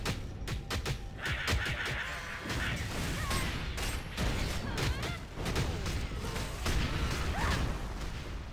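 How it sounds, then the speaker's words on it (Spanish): Cannon fire in a TERA video game dungeon sounds as repeated sharp booms and crashes, dense and irregular, mixed with whooshing effects and clatter at a moderate level. "Son cañones, unos cañonazos los flipas, claro."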